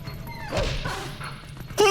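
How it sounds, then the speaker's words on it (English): A dog in Zelda Twilight Princess HD makes a quick yelping, whimpering bark after a dull crash, the whole thing very short and fairly close. "it just sounded like a dog just, like, cracked his skull into a wall"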